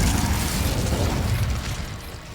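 An Incendio fire spell in the wizarding game Hogwarts Legacy: a loud, roaring whoosh of flame with crackling bursts that slowly fades during combat.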